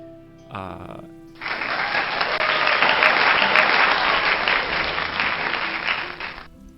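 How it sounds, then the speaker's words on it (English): A stream alert fires a burst of recorded applause, a loud, dense wash of clapping from a crowd that swells quickly after a brief lead-in chime and holds steady for about five seconds before cutting off. "yes, applause indeed"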